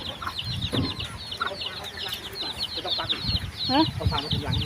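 Domestic chickens cluck and call in a farmyard near a coop where a ringneck pheasant egg is set for hatching, with repeated short clucks and squawks over background noise and voices talking.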